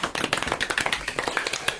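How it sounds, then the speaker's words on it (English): A small audience gives a brief round of applause for a Games Master, a quick patter of overlapping claps lasting just under two seconds. "Small round of applause for our Games Master"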